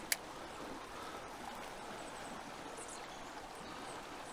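A strong, high river current rushes steadily past a trout-fishing spot, a continuous broad wash of flowing water with no break throughout, close and moderately loud.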